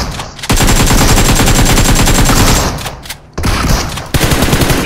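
Rapid video game gunfire, loud and sustained, with continuous automatic bursts that pause briefly and then resume, heard alone without talk.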